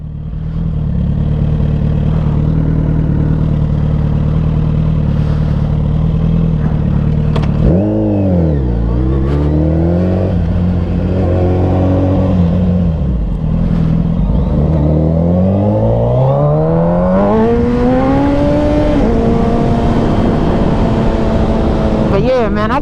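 A Suzuki Hayabusa sport motorcycle engine drones steadily while riding, then revs up and down through several swells and climbs in pitch toward the end, loud and close with a rider talking over it.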